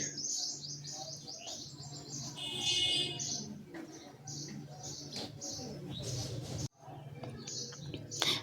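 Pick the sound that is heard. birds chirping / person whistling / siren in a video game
birds chirping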